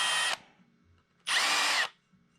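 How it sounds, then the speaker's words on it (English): Power drill countersinking holes in a heavy-duty bass boat graph mount: two loud, steady bursts of high whining drilling, each under a second, separated by a short quiet pause. "Holes are done. I'm just gonna countersink them a little bit"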